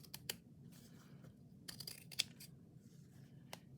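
Scissors trim the edge of a paper bag being made into a journal pouch: a few quiet, sharp snips and light paper rustles in a calm room.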